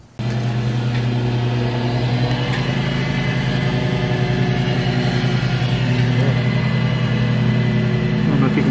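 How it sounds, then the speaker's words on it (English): A Ford Focus with a 2-liter EcoBoost engine runs steadily at a loud, even idle, its continuous hum and faint mechanical ticking unchanged from start to finish, heard up close. "let's first get it running on this 2-liter EcoBoost engine"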